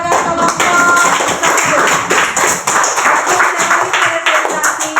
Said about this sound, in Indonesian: mari kita berikan aplaus yang luar biasa kepada kelompok